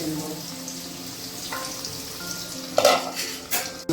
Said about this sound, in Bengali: মাটন রান্না করার জন্য যে আলুটা ব্যবহার হবে সেই আলুগুলো ভেজে নেওয়া হচ্ছে